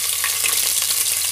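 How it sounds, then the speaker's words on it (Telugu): Green chilies fry in hot oil for a restaurant-style vegetable biryani, giving a steady, loud, close sizzling hiss with faint stirring and no voices. "నెక్స్ట్ వచ్చేసి ఇందులోనే పచ్చిమిర్చి వేస్తున్నాను"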